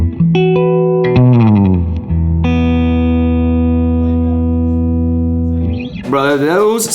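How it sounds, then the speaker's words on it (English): Bootlegger instruments, likely electric guitar, play sustained distorted notes and chords, loud and close, ending in a burst of wavering sound. "Now those sound like some great instruments, ladies and gentlemen."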